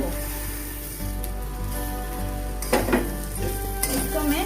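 Roasted vermicelli being stirred in a cooking pan, with scraping and clinks of a utensil against the pan over a low steady hiss, growing busier toward the end; no talking.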